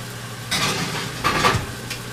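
Taco ground meat browning in a pan sizzles softly while a spoon breaks it apart, giving a few scraping, clattering bursts over the steady low fry, close by.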